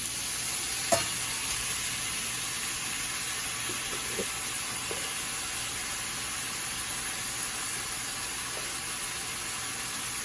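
Sliced cucumbers frying in a pan give off a steady, even sizzle that runs the whole time, with a few faint scrapes of stirring near the start and no one talking.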